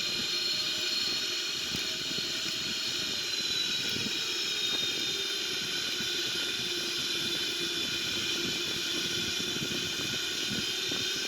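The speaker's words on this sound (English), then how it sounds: "that's reverse thrust and parking brake" Boeing 777-300ER engines roaring in reverse thrust after landing in a flight simulator game, a steady loud broadband rush with hiss that holds throughout without a break.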